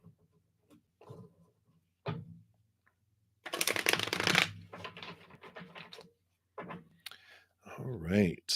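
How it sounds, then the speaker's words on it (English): A deck of cards riffled and shuffled at a table, with a loud burst of ruffling, scattered clicks and brief card flutters mixed with quiet spoken talk. "that's a lot of cards. Let me shuffle these up here."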